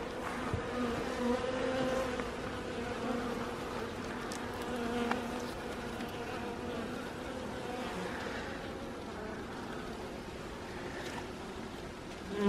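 Dense, steady drone of many honeybees buzzing around an open beehive box full of brood and larvae, close and continuous with small shifts in pitch, and no talking.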